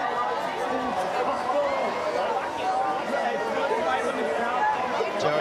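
A huge beach crowd at the Gold Coast Pro surf contest finals buzzes with constant overlapping chatter, a dense steady babble with scattered louder voices rising from the mass.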